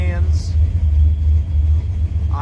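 A junkyard-built turbocharged Fox-body Ford Mustang idles around 800 rpm, a steady loud low rumble close by with a faint whine, while a voice talks over it.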